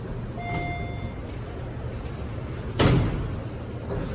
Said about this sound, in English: Oh, I accidentally pushed the other door closed.